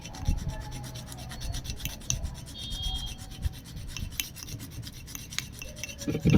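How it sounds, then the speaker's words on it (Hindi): A raw turmeric root is grated in rapid repeated rasping strokes, each scrape sharp and close, forming an irregular scratchy rhythm with no voices. "हल्दी गांठ को घिस के बताएंगे आपको"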